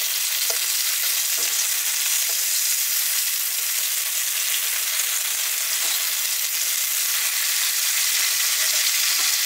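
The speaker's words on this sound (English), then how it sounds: "So we're taking care of our bacon. And we want to just do this until it's crispy." Bacon sizzles steadily in a pan over medium heat, cooking until crispy; a continuous bright hiss and crackle runs throughout with a few soft pops, and no one speaks.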